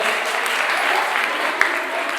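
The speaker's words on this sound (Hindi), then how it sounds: "सोनू पार्टी ने जोरदार ताली का एक बार।" Audience applause during a puzzle competition at a religious discourse gathering, a steady burst of clapping from a seated crowd lasting a couple of seconds, with faint voices underneath.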